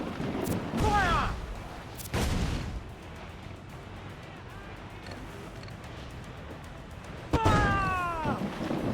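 Heavy ship cannons firing in Assassin's Creed IV: Black Flag, several separate booming blasts spread seconds apart, loud and close over steady ambient noise, with a shouting voice near the blasts.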